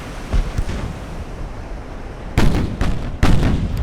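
Naval guns firing in the Ultimate Admiral Dreadnoughts video game, a battleship's 8-inch, 6-inch and 4-inch guns against destroyers: two heavy, booming blasts a second apart over a continuous roaring sea-like rumble.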